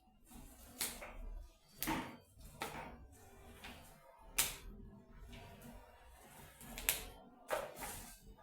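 Vegetable leaves cut with a knife, a series of sharp, close chops spaced irregularly about a second apart, faint overall with quiet background between strokes.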